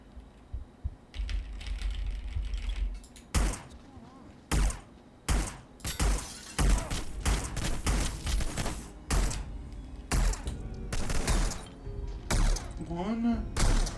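Gunshots in the Hitman: Blood Money video game, a series of sharp, loud cracks spaced irregularly across the clip, several in quick succession, mixed with game sounds and a voice talking between shots.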